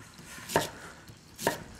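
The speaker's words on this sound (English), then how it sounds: "what we're going to do is just peel our potatoes" Two short, crisp scraping strokes of a peeler against sweet potatoes in a kitchen, evenly spaced about a second apart, close and fairly quiet with no talking.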